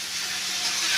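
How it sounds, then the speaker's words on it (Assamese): Hot water poured onto frying cumin and jaluk pepper paste, giving a loud, steady, close steamy hiss and sizzle that swells slightly toward the end. "আৰু অলপ গৰম পানী দিছোঁ যাতে মছলাটো লাগি নধৰে তলত।"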